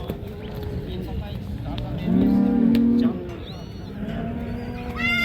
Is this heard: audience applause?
no